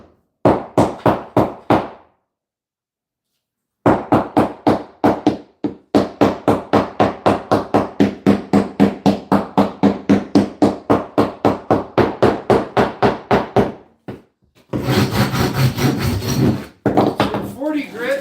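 Rapid rhythmic rasping strokes of 40-grit sandpaper on wood, loud and close, in bursts with a pause, then a steady whooshing rush of a vacuum near the end.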